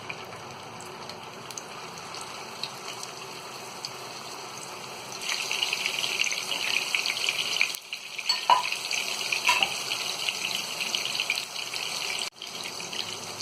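Mutton gola kebabs made from raw mince are shallow frying in lightly heated oil, a steady hiss that rises and grows denser partway through, alone with no talk.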